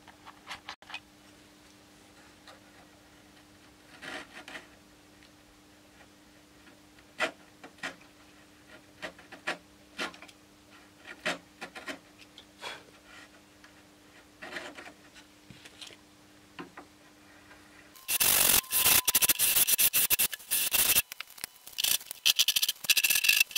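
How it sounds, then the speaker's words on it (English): A knife scrapes filler down on a Bellanca Decathlon aircraft in a quiet workshop, giving faint, irregular scratching strokes, then a louder, denser burst of scraping near the end. "this filler here would touch the covering, so it's best to take it down, and in this case just do it with a knife"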